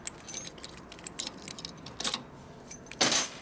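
Keys jangle against each other at a 1993 Harley FXR evo stroker's ignition, in a string of light metallic clinks and rattles ending with a louder shake, close up in a quiet garage.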